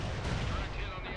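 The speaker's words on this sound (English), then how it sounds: "Incoming fire!" Incoming gunfire and artillery in World in Conflict, a dense continuous battle roar with rapid low thumps, a voice shouting over the din.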